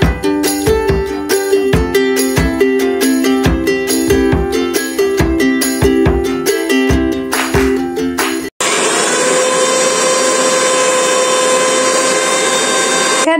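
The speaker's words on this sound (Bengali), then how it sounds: "একটু গুঁড়ো করে নেবো মিক্সিতে ঢেলে।" A kitchen mixer grinder runs loud and steady at close range, whirring as it grinds fried spices, after a stretch of rhythmic chopping or clattering.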